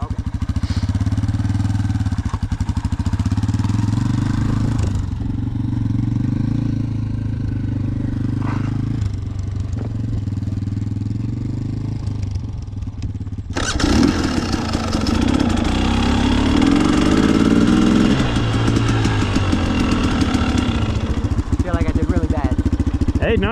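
A dirt bike engine runs steadily at a low idle as a beginner rides, then revs up louder and rougher partway through, with clattering and mechanical noise close by.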